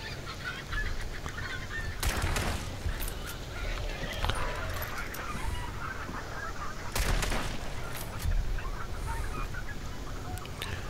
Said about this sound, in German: die Hühner.